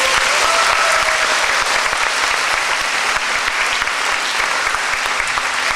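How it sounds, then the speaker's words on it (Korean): Sustained applause from a church congregation at a Korean revival gathering, dense and loud, a steady wash of clapping filling the whole stretch with no speech over it. "감사의 박수 한번 드리겠습니다"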